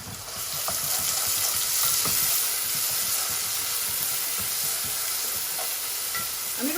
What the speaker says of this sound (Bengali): তো এখন আমি দিলাম আমার গ্রেট কইরা পেঁয়াজ